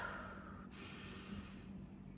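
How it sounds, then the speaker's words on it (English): A single deep breath, drawn in softly through the nose and then released in a long, quiet exhale, close and alone in a calm, still room. "I'm going to deepen my breath"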